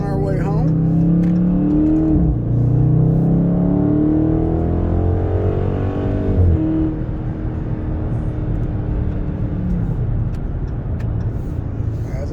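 A 2020 Dodge Charger widebody Scat Pack accelerating hard in a 0-60 pull, a loud, steady engine drone from inside the car with rising pitch sweeps as it climbs through gears, while people talk over it.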